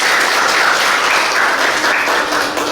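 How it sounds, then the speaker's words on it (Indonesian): Pupils clapping together in a classroom: loud, dense, rapid applause from a group of children close by, continuous and even throughout. "Ya, bagus, tepuk tangan."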